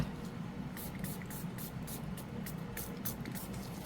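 Short hissing bursts of an aerosol spray repeat in a quick, uneven rhythm over a steady low background hum.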